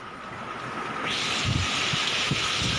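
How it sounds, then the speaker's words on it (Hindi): Heavy rain and strong wind from Cyclone Nisarga lash Kolai village in Raigad on the Maharashtra coast, a dense continuous roar that swells louder partway through, with gusty rumbles at the microphone. "देखिए कितनी तेज बारिश हो रही है, तेज हवाएं चल रही हैं"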